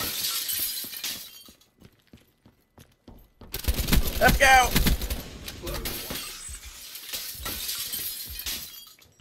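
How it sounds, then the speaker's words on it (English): Glass shatters loudly in Black Ops 3 gameplay, a burst of breaking and tinkling shards with gunfire-like cracks, while players talk and shout over it. "Glass breaking everywhere."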